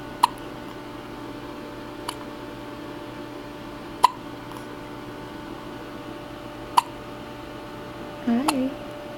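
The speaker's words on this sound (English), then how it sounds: "I will make these hiccups go away." Baby hiccups sound as a few sharp, isolated clicks spaced a couple of seconds apart over a quiet room hum, with a short soft vocal murmur near the end.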